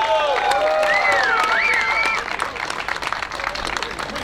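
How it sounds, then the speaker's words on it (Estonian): Crowd applause at a motocross awards ceremony honoring women riders, continuous clapping with a few whistles and cheers early on, thinning slightly toward the end. "Kõva aplaus kõigile naistele"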